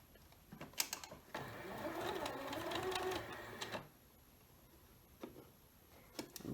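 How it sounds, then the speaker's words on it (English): A sewing machine stitches quilt block seams in one fast, steady run of about two and a half seconds, with faint clicks before and after in a quiet room. "now I'm going to stitch it"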